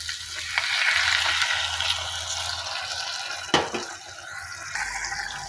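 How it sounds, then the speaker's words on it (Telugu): Water is poured into a pan of frying potato masala seasoned with garam masala, setting off loud crackling sizzle and steady bubbling, with a sharp splash and stirring scrape partway through and no speech. "గరం మసాలా పొడి వేసేసుకొని బాగా కలుపుకున్నాక కొద్దిగా వాటర్ పోసుకోవాలి."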